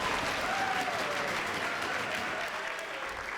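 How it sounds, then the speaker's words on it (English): A wrestling arena crowd applauds and cheers in a dense, steady roar that fills the whole stretch, with a faint voice mixed underneath. "And the crowd goes wild."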